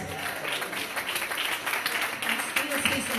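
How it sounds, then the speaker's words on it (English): Church congregation applauding in praise to the Lord during a deacon's musical celebration, a steady wash of many hands clapping at moderate volume throughout, with no break. "Let's give the Lord a hand praise"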